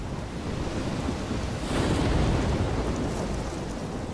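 A storm in the game Life Is Strange: a loud, continuous roar of wind and rain that swells into a deeper rumbling surge midway, then settles back, with no speech.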